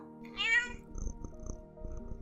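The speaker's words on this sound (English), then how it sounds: "El gato." A domestic cat gives one clear, close meow near the start, then quiet room noise with faint low rumble follows.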